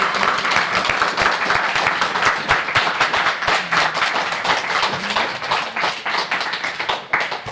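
An audience claps in dense, steady applause for a speaker at a French-language talk, loud and continuous throughout with no voices on top.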